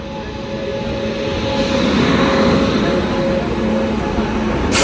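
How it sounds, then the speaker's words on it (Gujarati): A second train pulls in on the line from Udaipur bound for Ahmedabad, a steady close rumble with a faint tonal whine and rising, sustained rolling noise throughout. "જો આ બીજી ટ્રેન આવી ઉદયપુર તરફથી આવી અને એ જાય છે અમદાવાદ"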